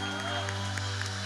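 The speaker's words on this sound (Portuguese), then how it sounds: "Aplauda o Senhor mais uma vez" A church congregation applauding during a celebration service, a dense wash of clapping from a crowd over sustained tonal music, brief and fairly loud.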